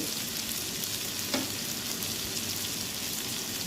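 Green chillies, onion, nigella seeds and bay leaf fry in hot oil, giving a steady, dense sizzle that stays even throughout, with one brief crackle partway through and no talking.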